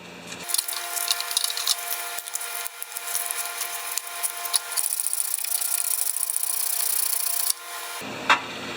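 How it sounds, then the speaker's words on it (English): Scratched aluminum is buffed with a continuous, close, abrasive whirring rub that holds steady for about eight seconds without pause. "So now we can buff it up."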